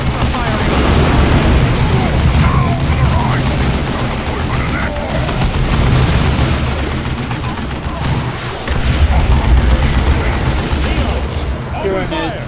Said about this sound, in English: Orcs are firing!